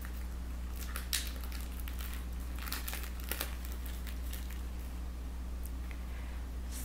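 Crinkling and tearing of the packaging as a tarot card deck is opened, a quiet, steady rustle with several sharper crackles over a low constant hum.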